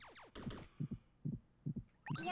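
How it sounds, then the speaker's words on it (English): Rhythmic thumping heartbeat in a video game, four low paired beats at a steady pace with a sweeping synth tone at the start and a brighter sound at the end. "Why is the heart beating?"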